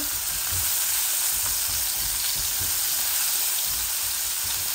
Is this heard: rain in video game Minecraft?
no